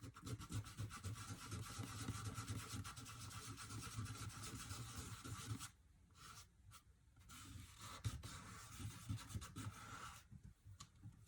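A baby wipe rubs over paint to blend a snowman painting, soft scratchy rubbing strokes that pause briefly midway and then resume, faint and close.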